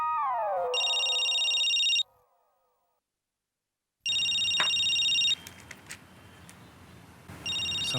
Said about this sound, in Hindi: समर भाई का फोन